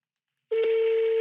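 A phone call to an international number rings out on a cell phone, a steady, loud electronic ring tone starting abruptly after a short silence and holding on without a break.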